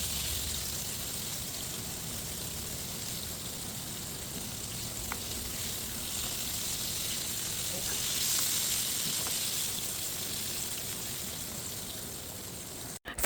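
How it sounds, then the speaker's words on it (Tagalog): Milkfish (bangus) frying in very hot oil, giving a steady, close, even sizzle with faint crackles throughout and no talking. "Kailangan lang talaga ay mainit na mainit ang mantika na pagsasalangan natin at ang gagawin lang natin ay papupulahin natin sila"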